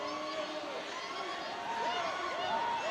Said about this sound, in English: Crowd making noise, trying to get him to miss again